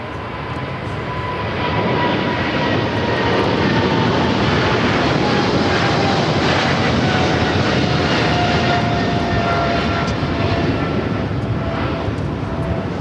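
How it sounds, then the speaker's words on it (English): A China Southern Boeing 777 freighter rolls down runway 25 left at LAX, its jet engines roaring as a loud, steady, broadband rumble that swells after the first couple of seconds and holds strong throughout. "we got that China Southern 777 freighter rolling down to 25 left"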